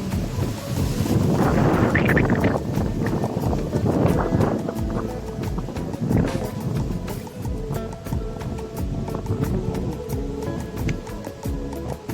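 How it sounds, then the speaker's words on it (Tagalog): Strong wind buffets the microphone with heavy rumbling gusts, loudest early on, with a steady roar of rushing air continuing throughout. "Lakas ng hangin sa labas."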